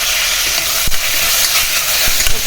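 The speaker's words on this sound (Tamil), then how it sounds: "வெங்காயம் இந்த அளவுக்கு வதங்கினதுக்கப்புறம் தக்காளி போட்டுக்கலாம் தக்காளியும் பச்சை மிளகா போட்டுக்கலாம்" Onion, tomato and green chili sautéing in a pan for tomato soup give a steady close sizzle with hiss, broken by a few soft stirring knocks, with no talk.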